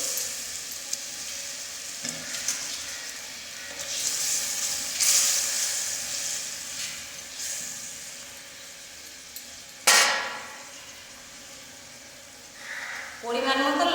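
Pre-fried fish going back into a hot pan for a tangy fish ambal, giving soft sizzling with stirring and a few clinks, one sharp burst of frying partway through, and a voice speaking at times over it.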